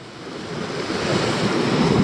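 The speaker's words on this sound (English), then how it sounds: "The size of those waves." Ocean surf surges against a rocky coast, a continuous loud wash of breaking water with wind buffeting the microphone, swelling steadily louder, no voices.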